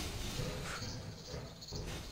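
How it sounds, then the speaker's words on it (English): Bees and flies in the Half-Life video game make a continuous, fairly soft insect buzz and drone with slight rises and falls and no talking. "There are bees and flies everywhere."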